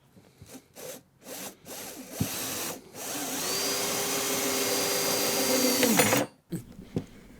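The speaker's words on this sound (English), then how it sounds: "So now I'm taking the right head of the screwdriver and we're just closing." A screwdriver drives a screw into wood with short scraping turns, then one long steady grinding rub, then a few brief taps and scrapes, close and fairly quiet.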